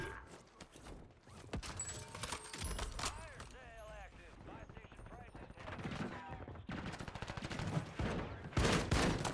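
Gunfire in the video game Warzone, scattered gunshots and bursts at moderate distance mixed with footsteps and game effects, with a voice talking over much of it.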